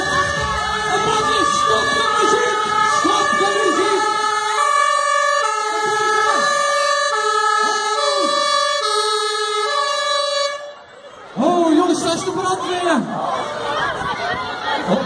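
A fire engine's two-tone siren wails loud and steady as the fire brigade arrives at a Sinterklaas arrival at a school, alternating pitch for about ten seconds, then cutting off briefly before a crowd's cheering and voices swell up.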